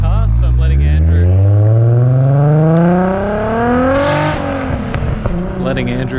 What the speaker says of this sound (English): I've never heard my screamer pipe actually outside of the car